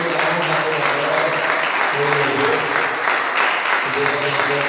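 Church congregation applauding steadily for Jesus, a dense, continuous clapping that holds at an even level throughout with some voices mixed in underneath.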